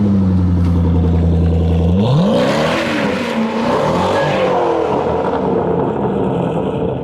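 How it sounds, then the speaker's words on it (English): A car performs a half circle burnout, its engine holding a loud high rev before the pitch climbs and wavers, then dissolving into a broad roar of tire squeal and skidding noise. "I hope you guys enjoyed this half circle burnout"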